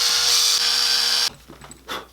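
A power drill with a 1/16 inch bit boring a hole during an electric guitar fretboard and neck build, a loud steady high whine for over a second that cuts off abruptly, followed by faint handling noises.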